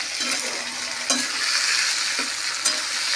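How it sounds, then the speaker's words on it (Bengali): Onions and tomato fry in a pan for a mutton kasha dish, giving a steady broadband sizzle with a few sharp scrapes of stirring near the start, middle and end, with no voices. "এবার পেঁয়াজগুলোকে একটু লাল লাল করে ভেজে নেব"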